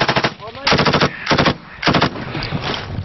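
Loud, close bursts of machine gun fire during a firefight in Helmand, Afghanistan, several rapid rattling volleys separated by short gaps, with faint shouting between them.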